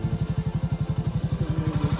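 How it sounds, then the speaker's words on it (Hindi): A motorcycle engine idles close by in cold weather, a loud, steady low-pitched thumping pulse with an even rhythm and no talking. "मोटरसाइकिल बंद कर दे"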